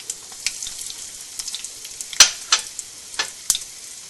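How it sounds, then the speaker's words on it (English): Mustard seeds and urad dal sizzle and crackle in hot oil, with sharp pops and spits scattered over a soft, steady frying hiss, close and alone without talk. "To this, first I am going to put the mustard seeds."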